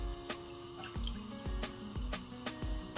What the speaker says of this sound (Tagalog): just pour in the water